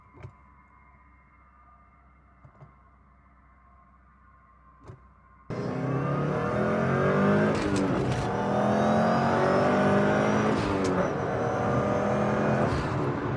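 Subaru STI with a swapped transmission accelerating through first, second and third gear, quiet idle then a loud close engine roar climbing in pitch with shifts.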